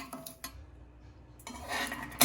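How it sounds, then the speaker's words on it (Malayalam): Jackfruit seeds dry-roast in a pan, rattling and clicking against the metal in short, scattered bursts before a denser clatter at the end. "ഞാനിത് ഒരു പാനിലിട്ടിട്ട് നന്നായിട്ട് വറുത്തെടുക്കുകയാണ് ചെയ്യുന്നത്"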